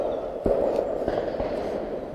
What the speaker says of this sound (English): Started shooting up the front end of the valley.